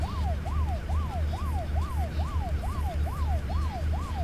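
A fire engine siren wails in 18 Wheels of Steel: Extreme Trucker, its rising and falling pattern repeating steadily about ten times over a loud low engine rumble, close by and alone without talk.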